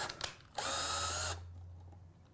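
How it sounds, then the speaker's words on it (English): A power drill boring holes in an acrylic sheet for a small craft project, one steady whine lasting under a second after a couple of brief taps, close and fairly quiet. "And let's just finish drilling out these holes."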